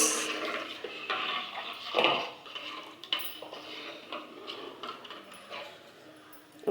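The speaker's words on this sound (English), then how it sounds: "I'm just gonna stir this." Chickpea curry paste is stirred in a pan with irregular scraping and clanking of a utensil against metal, close up, with some quieter moments and a sharp knock near the end.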